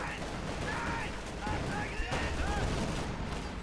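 Battlefield gunfire from an MG42 and enemy machine guns in a Company of Heroes 2 match, continuous and somewhat distant under a dense mix of game sounds, with someone talking over it.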